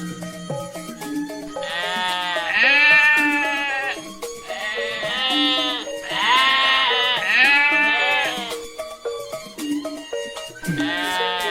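Cartoon goats bleat repeatedly in a wavering, nasal chorus, several overlapping bleats in bursts across the clip, loud and close with no talk, in an Ondel Ondel Betawi animated story set at Eid al-Fitr.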